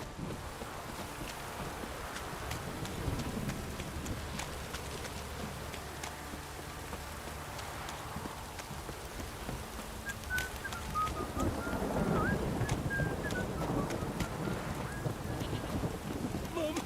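Steady rain falls in The Witcher 3, a continuous hiss with low rumbling beneath it and a brief chirping sound later on, with no clear talk.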